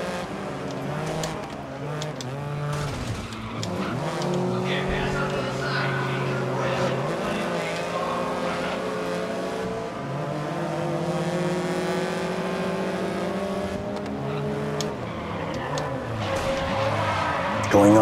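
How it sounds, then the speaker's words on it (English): High-pitched engines whine and rise in pitch as hot hatch racing cars, including a Porsche, pass one another in the video game GRID, continuous and loud, with tire skids and shifting tones throughout. "you can also hear the other cars as you pass by"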